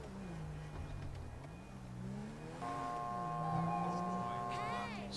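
A police car in GTA V pulls away, its engine humming and rising steadily under near-continuous talk, with a siren-like tonal layer joining partway through.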